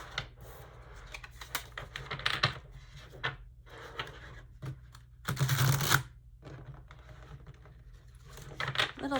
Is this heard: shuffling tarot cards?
yes